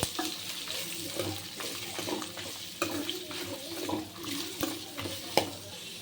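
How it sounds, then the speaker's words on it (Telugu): Radish with a little turmeric fries in a pan for mullangi chutney, a steady soft sizzle close by, punctuated by scattered clinks and scrapes of a stirring spoon. "ముల్లంగి, కొద్దిగా పసుపు బాగా వేయించుకోవాలి"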